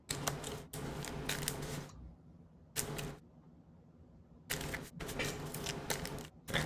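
A deck of Magic: The Gathering cards is riffled and shuffled close up, in several bursts of crisp rapid flapping separated by brief pauses.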